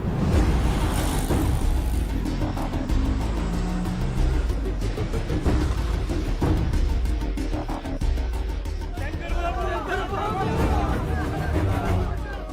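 An auto rickshaw turns and drives through a busy Indian street in a film scene, its engine rumbling steadily under crowd babble and traffic noise.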